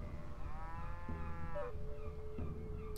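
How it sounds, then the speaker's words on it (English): Cows mooing in the video game Civilization V, two or three drawn-out low moos in succession, fairly close and clear over a faint background. "I love how the cows are just kind of standing there."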